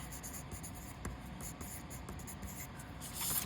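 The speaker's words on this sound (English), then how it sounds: "So first thing you need to do is write your name on the back." A pencil writes a name on the back of watercolor paper: steady, close scratching and scribbling with short strokes and brief pauses, slightly louder at the end, with no talking.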